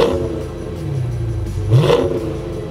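A 2020 Dodge Challenger 392 Scat Pack engine revs briefly, a low, fairly soft, throaty exhaust rumble rising in pitch twice, heard close with no voices.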